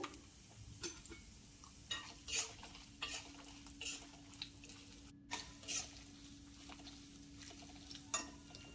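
Cumin, mustard seeds and cashews fry in a pan for a South Indian pongal tempering, giving a soft steady sizzle broken by irregular scraping and clinking stirs, moderately close with no talking.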